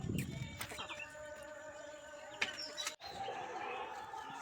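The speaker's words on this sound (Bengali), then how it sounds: "দেখুন প্রত্যেক ঘরে পায়রা আছে আমার।" Pigeons in their coops, a loft with nests holding eggs and chicks, coo softly and steadily with a few chirps over a constant background hiss, fairly close and without talk.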